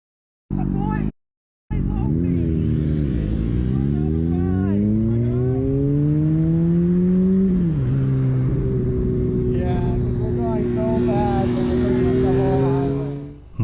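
A motorcycle engine on a parking lot revs hard in a loud, close burst. The pitch climbs, then holds a sustained drone before dropping away, after a brief cut near the start.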